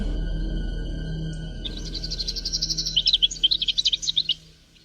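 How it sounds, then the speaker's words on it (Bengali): A tailorbird gives a burst of rapid, high, shrill chirping notes that builds in loudness and then stops abruptly, used as a story sound effect over a low background drone. "ঠিক তখনই টুনি পাখি খুব জোরে চিৎকার করে ওঠে।"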